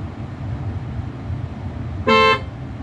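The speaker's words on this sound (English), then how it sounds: "There's a honk. I'll test the honk." A single loud Tesla Model 3 horn blast lasting about a third of a second, cutting sharply over a steady low engine rumble.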